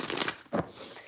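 Tarot cards being shuffled by hand, with two short papery riffling bursts close up and no talking.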